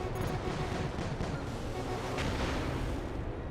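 Rapid F-16 cannon fire in the Agile Viper: Metalstorm flight game, a continuous low roaring burst of shots mixed with engine rumble, loud and unbroken throughout.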